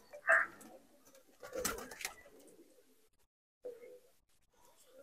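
Pigeons of the Punjabi Malwai breed give a few soft calls, the clearest near the start and another around the middle, set against quiet background noise with no talking.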